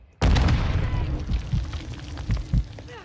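A grenade explodes in the video game Call of Duty with one sudden, loud, close blast. Rumbling debris follows, along with a few smaller thuds and pops as it fades.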